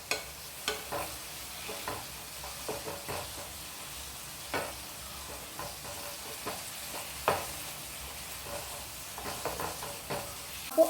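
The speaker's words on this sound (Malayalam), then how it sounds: "ആ ടൈമിൽ നമുക്ക് തീ ഒന്ന് കൂട്ടി കൊടുത്തിട്ട് ഒരു 5 മിനിറ്റ് ജസ്റ്റ് ഒന്ന് ഇളക്കാം." Soybean roast is stirred in a pan over a high flame, a quiet continuous sizzle broken by repeated scraping and clinking strokes of the spoon at an irregular pace, with no voices.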